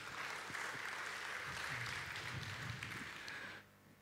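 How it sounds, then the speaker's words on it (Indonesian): A church congregation claps for God during a sermon, a fairly faint, even wash of applause that cuts off abruptly near the end, with a few voices murmuring underneath. "Berikan tepukan untuk Tuhan"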